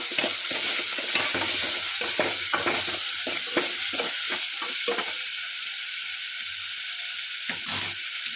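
Semiya vermicelli roasting with salt in a pan, a steady close sizzle broken by repeated scraping stirs of a spoon through the strands, with no talking.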